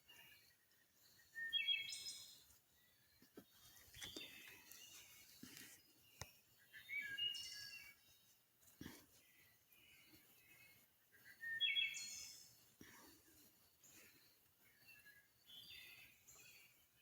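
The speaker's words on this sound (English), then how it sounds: "Listen to that beautiful birds singing." Birds sing outdoors at dusk among green growth, with scattered short chirps and trills at a moderate distance over a quiet background, several clear bursts spread across the stretch with no talking.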